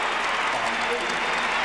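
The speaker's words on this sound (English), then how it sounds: "As the scores go up, the crowd reacts" Crowd at the 2002 Olympic figure skating pairs short program reacting to the scores with steady, dense applause and cheering that fills the arena throughout.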